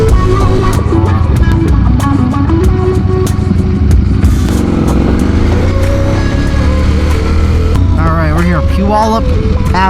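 A 2025 Ducati Panigale V4 on the move roars loudly and continuously, its engine pitch swooping up and down through gear changes, with wind rush and a voice mixed in.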